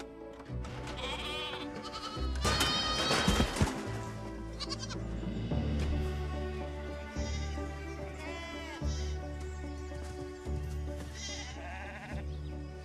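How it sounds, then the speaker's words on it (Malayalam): Several sheep bleat repeatedly, some close and loud, others fainter, overlapping in an uneven chorus with no talking. "അത് ആടുകൾ തന്നെയാണ്."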